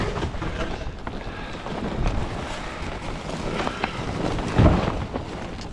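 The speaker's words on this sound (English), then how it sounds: "It's so windy out here." Strong wind on the ice during ice fishing buffets the microphone in a continuous roar with gusty surges and low rumbling, no voices present.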